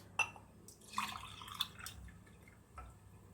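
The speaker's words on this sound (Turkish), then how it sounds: "Şimdi buna suyunu ekliyoruz." Drinking water poured in small splashes and drips into a pot of chocolate rice pudding being made in a home kitchen, a few brief liquid plops with quiet gaps, close but soft, no talking.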